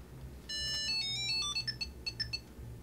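Tile tracker chiming from inside a brown Horween leather NOMAD wallet: a bright, melodic run of electronic tones, then several short quieter blips, close and clear with no talk.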